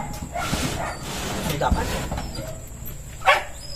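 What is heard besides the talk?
dog whining and barking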